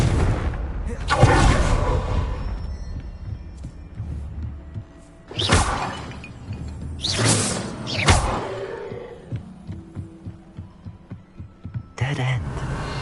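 Confringo fire spell explosions in Hogwarts Legacy, several loud booming bursts spread across the clip with rumbling tails and game ambience between them.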